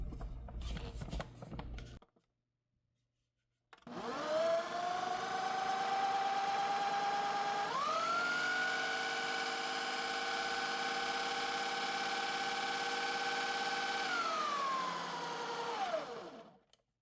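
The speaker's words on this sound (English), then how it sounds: "We're gonna blend that up and see how it looks." A blender whirs through keto pumpkin cheesecake filling, starting after a brief pause with a steady high motor whine that climbs in pitch as it speeds up, holds, then winds down at the end.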